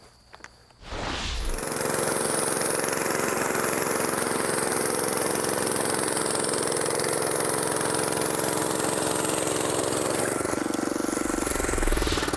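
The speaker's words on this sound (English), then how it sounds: "This tiller of mine goes about 8 inches deep" A small garden tiller engine starts up after a few faint clicks and then runs at a steady, loud idle in a vegetable garden, easing slightly near the end, with no talking.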